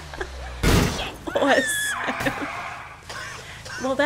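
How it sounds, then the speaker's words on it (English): A car crashes and wrecks in Grand Theft Auto IV: a loud burst of impact and shattering, followed by screeching and shouting voices amid ongoing game noise. "that's his car wrecked"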